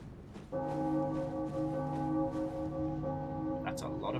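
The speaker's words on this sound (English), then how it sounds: "That's a lot of bell ringing." Bells ringing in Bloodborne, a sustained, layered metallic tone with steady harmonic bands that starts after half a second and carries through, moderately loud with faint background noise.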